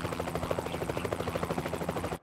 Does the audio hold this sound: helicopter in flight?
yes